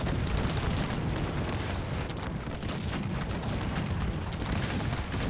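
A large gunpowder-era battle in the real-time strategy game Cossacks 3, with dragoons, cannons and howitzers, roars as dense, continuous massed gunfire and rumbling blasts, loud and unbroken for the whole stretch.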